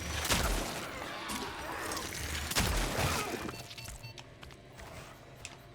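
Gunshots ring out in Cronos: The New Dawn, several sharp cracks with crashing impacts over the first three seconds before the action quiets, with faint background sounds.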